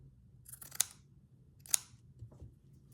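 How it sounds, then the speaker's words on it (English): Scissors snip through a small piece of fabric in two crisp, distinct cuts about a second apart, close and quiet against a soft background hush. "Let's just cut this little morsel out."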